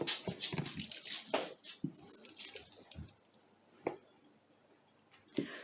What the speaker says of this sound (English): I'm definitely thinking I'm going to give this one some water.